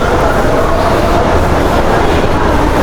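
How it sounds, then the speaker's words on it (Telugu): Steady, loud rumble of a Paris train or metro in motion, a continuous broadband roar with no clear breaks, heard from on board throughout. "So let's go and catch the train."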